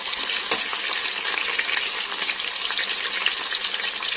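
Onions, cinnamon, cloves, bay leaf and fennel seeds fry in oil with a dense, continuous crackling sizzle, close and steady with no talking.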